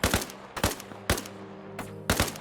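Automatic rifle fire in Arma Reforger, five sharp close bursts spaced about half a second apart, each ringing briefly into the next.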